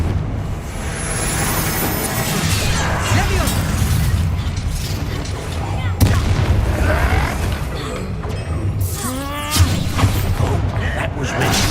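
A Confringo blasting spell in a video game sets off booming explosions amid a dense rumbling battle soundscape, with a sharp burst near the middle and another later, while voices shout over the din.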